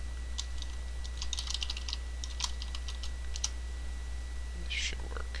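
Close, quiet keystrokes on a computer keyboard as a password is typed, arriving in short irregular bursts of clicks over a steady low electrical hum.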